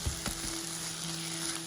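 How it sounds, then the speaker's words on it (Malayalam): Finely chopped tomatoes cook down in a pan, giving a close, steady sizzle with a few light stirring knocks at the start, no talking. "ചെറുതായിട്ട് അരിഞ്ഞ തക്കാളിക്ക് ചാറിലേക്കൊന്ന് വെന്ത് തുടങ്ങി"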